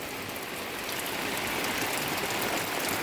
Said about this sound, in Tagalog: Ayan guys, na ulan pa.